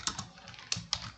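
A few light keystrokes on a computer keyboard as text is entered in a Scratch programming tutorial, sparse separated taps over a soft background hum, close and quiet.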